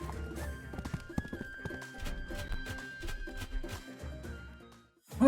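Horse hooves clip-clop in the Wargroove video game, a steady run of hoofbeats with a whinny over a background game music bed, ending with a louder closing sound.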